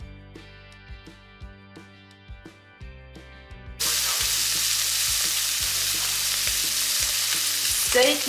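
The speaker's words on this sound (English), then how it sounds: "Steak is now roasting in the pan." Steak hitting a hot pan and erupting into a loud, continuous sizzle, preceded by a stretch of rhythmic tapping and knocking, with no talking.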